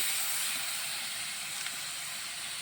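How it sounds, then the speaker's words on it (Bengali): Ground cumin, coriander and turmeric with salt fry in a pan, producing an even, broad hiss that holds steady throughout. "মশলাটা কষিয়ে নিয়ে"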